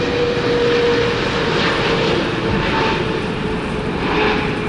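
A United Airlines Boeing 757-200 jet airliner roars steadily and loudly throughout, a continuous broadband engine rumble with no talking.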